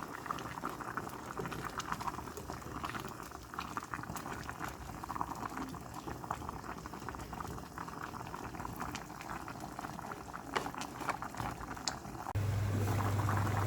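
A pot of ginataang kalabasa with squash, string beans and sayote boils steadily in coconut milk, a continuous bubbling simmer close by with no talking.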